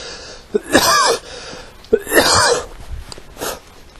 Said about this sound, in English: that's what's causing the cough